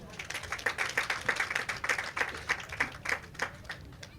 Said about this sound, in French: Je vous prie de les applaudir encore.